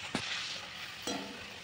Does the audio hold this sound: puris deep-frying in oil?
yes